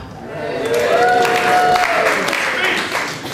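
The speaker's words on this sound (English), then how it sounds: "Can we have a big round of applause" Audience applause at a student comedy award show, a crowd clapping and cheering in a venue, swelling to a steady loud peak and then easing off, with a held voice-like tone running through the middle.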